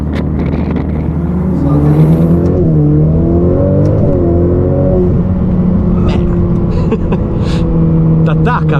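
A Ferrari sports car accelerates hard, its engine note climbing through several gear changes in a loud, close, continuous roar, with someone speaking over it.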